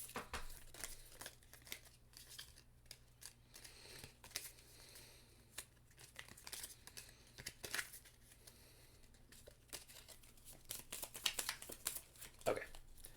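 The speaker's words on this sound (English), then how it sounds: "Drawing cards." Cards being drawn and handled during a tabletop deckbuilder game session, a soft papery crinkling and shuffling scattered across the clip under quiet room noise and occasional voices.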